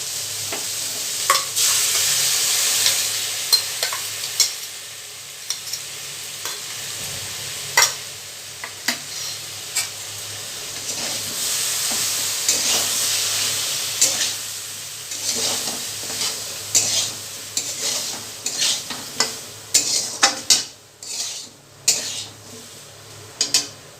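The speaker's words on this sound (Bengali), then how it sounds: "সর্ষে বাটা দিয়ে সবজিগুলো কষে নিয়েছি" Raw banana pieces stir-fried with mustard paste in a pan, a steady hiss of frying under repeated sharp scrapes and clinks of a spatula against the pot, growing more frequent toward the end.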